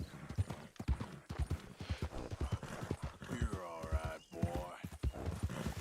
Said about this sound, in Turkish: Kardeş bu nasıl at?